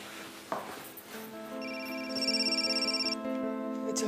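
A telephone rings indoors with a steady electronic tone that swells into a pulsing, repeating ring, moderately loud and close, with no voices over it.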